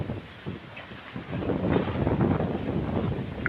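Cool, dry outdoor wind buffets the microphone in a rough, continuous rumble that swells louder midway through and stays steady, with no voices heard.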